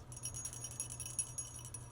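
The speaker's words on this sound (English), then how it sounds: "we have the red bell" A red bell jingles continuously with a shimmering, rattly high ring, quiet and near, accompanied by a faint low background hum.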